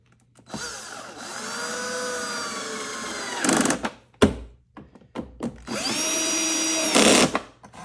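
A cordless drill drives screws into the housing of a Ryobi 18V ONE+ HP lawn mower, model P1190. Two close, whining bursts of about three seconds each are separated by a sharp thunk and brief handling clatter.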